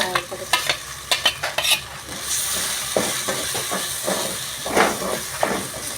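A ground masala paste for kurma frying in a pan, a few sharp spatula clanks, then a loud steaming hiss as the wet paste hits the hot oil, followed by steady sizzling and occasional stirring scrapes, with no speech.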